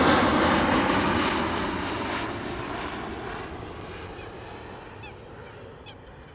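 Jet engines of an American Airlines Boeing 787 at Schiphol roar loudly at first, then fade steadily as the aircraft moves away, with brief honking calls above the rumble near the end.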